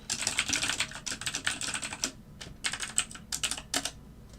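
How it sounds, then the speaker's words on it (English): Fast, steady typing on a computer keyboard, close and clear, keys clattering in quick bursts with brief pauses between runs, during a live algorithmic trading session. "I type 80 words per minute."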